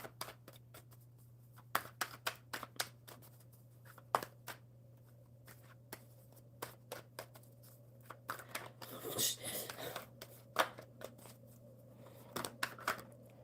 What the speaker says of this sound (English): I've got a ton of cards here, and I'm still shuffling.